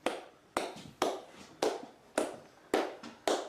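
Seven sharp hand claps spaced about half a second apart, each with a quick ringing tail, loud and close in a quiet indoor setting during a ghost-hunting session in Blackpool.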